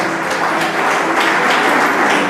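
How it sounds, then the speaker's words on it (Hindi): Audience applause for the chief guest at a Samvidhan Jano (Know the Constitution) programme event, a steady dense roar of many hands clapping throughout, loud and close with no talk over it. "एक बार जोरदार तालियां बजाइए।"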